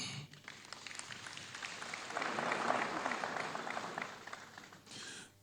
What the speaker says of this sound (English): It's okay if you clap.